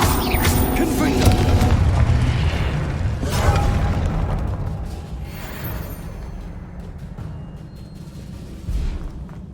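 A Confringo spell explodes in the video game Hogwarts Legacy, giving loud booming bursts over dense game noise, with a voice talking through part of it.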